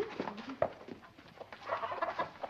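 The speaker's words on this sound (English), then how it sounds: "you want to see the chickens you left, children?" Chickens clucking in a 1950s film farmyard scene, a loose run of short clucks and squawks at close to medium distance, with no speech.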